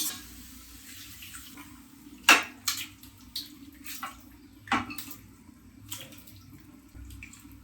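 Water splashes and trickles into a metal pot of country chicken and onions in uneven bursts, with a few clinks of the vessel and a low steady hum behind.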